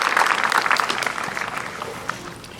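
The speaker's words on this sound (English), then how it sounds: "Let's give them a round of applause." Enthusiastic clapping from a large crowd at an elementary school 6th grade promotion ceremony, dense and steady at first, then gradually thinning and fading.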